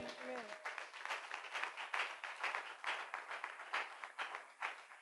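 A church congregation claps together in thanks to God, a dense, steady wash of applause filling the room, with a voice briefly audible at the start.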